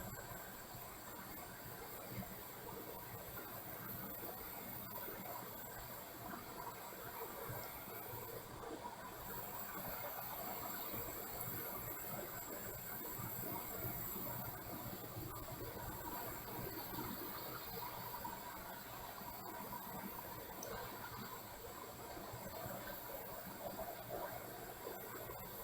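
A hot air rework station blows through its nozzle onto a BGA chip on a circuit board, giving a soft, even rushing hiss that holds steady and faint throughout with no talking.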